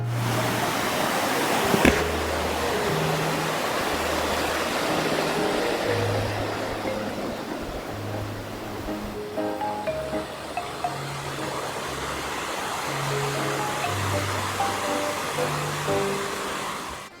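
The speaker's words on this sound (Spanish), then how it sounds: "van a poder admirar una pequeña cascada que hay acá, y como su nombre lo indica, un arroyo" A small waterfall and stream at Arroyo López, Argentina, give a steady broadband rush of flowing water that carries on unbroken, with soft background music underneath.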